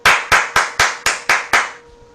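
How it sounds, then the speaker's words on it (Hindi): A school audience at DPS Rajnandgaon claps in a steady unison rhythm, seven loud sharp claps evenly spaced about a quarter second apart, then stopping abruptly. "दोनों हाथ से जोड़कर ताली मारी"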